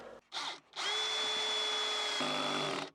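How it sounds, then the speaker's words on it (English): Power drill driving screws into fittings in an Astro van camper conversion, two short whirring bursts followed by a longer steady drive whose pitch drops near the end as the screw seats, close and alone. "Couple more screws in, then I'll cinch that one down."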